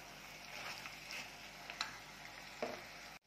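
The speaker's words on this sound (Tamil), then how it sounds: "இப்போ தக்காளி நல்லா வதங்கணும்." Tomatoes sautéing in a pan for mutton curry make a soft, continuous sizzle, with a few clicks and scrapes of a spoon stirring, quiet and close.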